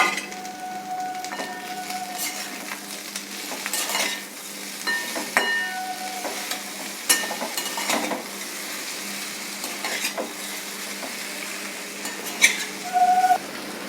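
Jaggery is stirred into amla pickle in a hot pan, with a soft sizzle under scraping spoon strokes and scattered metallic clinks against the pan. Nobody speaks.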